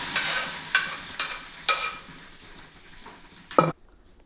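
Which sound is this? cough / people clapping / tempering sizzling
tempering sizzling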